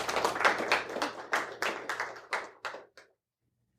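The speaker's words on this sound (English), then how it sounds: "Let's give her a round of applause." Sparse applause from a small career-day audience, a handful of distinct claps in uneven bursts that thin out and stop abruptly, leaving silence.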